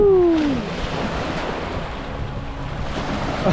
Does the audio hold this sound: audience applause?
no